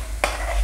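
Cluster bean chutney being stirred in a pan, with one short scrape of a spoon against the metal and a soft sizzle that lingers afterward. The sound is close and brief, and nobody speaks.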